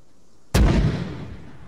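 A single artillery gun fires in the military video game Arma 3, a sudden loud close boom after brief quiet that rolls off into a rumbling decay within about a second.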